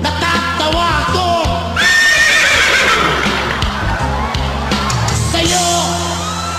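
A person imitating a horse neighing, loud whinny-like vocal cries rising and wavering over several seconds, with clopping sounds, yells and crowd noise around it.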